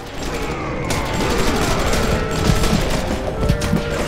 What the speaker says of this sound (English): Just like that, we already used up our submachine gun.